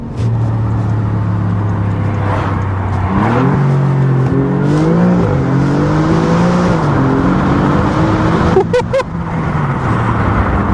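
A 2021 Alfa Romeo Giulia Quadrifoglio's engine drones loud and close from inside while driving, its pitch rising and falling through gear changes and throttle blips, with wind rush underneath and no talk.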